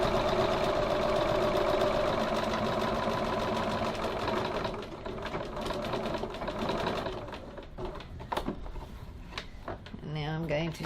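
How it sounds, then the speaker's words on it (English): A sewing machine stitches a pocket at a quarter-inch seam, its steady mechanical whir running loud and continuous for several seconds before easing off, while a person talks over it. "I'm going to stitch at 6 millimeters or 1/4 of an inch."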